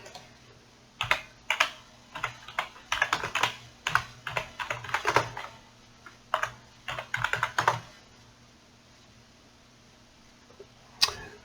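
Bursts of quick clicking keystrokes on a computer keyboard, close and fairly quiet, arriving in irregular clusters with short pauses and a final lone tap after a longer gap.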